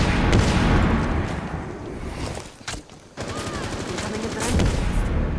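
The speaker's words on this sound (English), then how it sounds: "Holy crap, this machine gun thing works like crazy." Rapid machine gun fire from a mounted gun in Rainbow Six Siege, a dense continuous burst that briefly drops out mid-clip before resuming loud and sustained.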